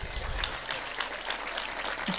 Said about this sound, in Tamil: கைத்தட்டல் எல்லா திருநெல்வேலி அம்மாக்களுக்கும் சமர்ப்பணம்.